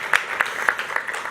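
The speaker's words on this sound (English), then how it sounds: "Thank you for the claps" Audience applause at the Zabbix Summit 2023 conference: a short, thin patter of claps from a small crowd, steady and moderately loud, with no voices over it.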